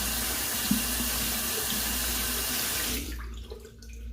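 Water running from a tap while a shaving brush and sponge are rinsed: a loud, steady splashing stream for about three seconds, then it cuts off, leaving faint drips and handling noises.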